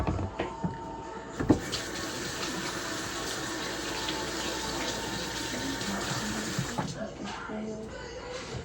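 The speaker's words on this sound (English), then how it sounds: "I'm gonna wash my hands real quick." Tap water runs steadily into a sink as hands are washed in a kitchen while cooking a Thanksgiving meal, a continuous close rush with a brief knock near the start and faint talk in the background.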